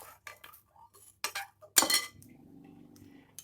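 A metal spoon clinks and scrapes against a bowl while stirring a chocolate milk mixture with a pinch of salt, giving sharp intermittent taps and a soft swishing stir, close and fairly quiet.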